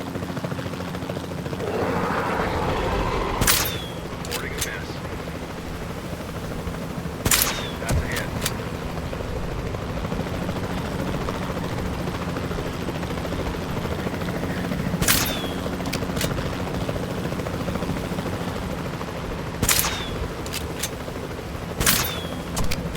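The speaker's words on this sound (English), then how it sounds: "Then the sensible thing is to take a capture team helicopter." A capture team helicopter in the Jurassic World Evolution 2 video game gives a continuous rotor drone under the game's ambient sound. Sharp clicks or shots are scattered through it, and nobody talks.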